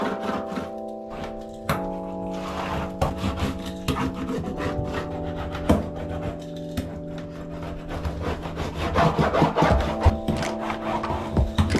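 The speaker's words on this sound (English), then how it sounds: "I'm gonna run a roller across the entire surface of this cushion floor just to ensure that everything is glued down" A roller pressed and rolled across glued-down cushion vinyl flooring in a bathroom, giving a continuous close rubbing, grinding drone with a rhythmic, slightly squeaky texture that keeps going throughout.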